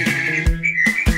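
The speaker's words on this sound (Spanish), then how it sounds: "¡El pájaro!" A bird sings in a children's animal-sounds quiz, a couple of bright, sustained whistled notes with short breaks between them, loud and close.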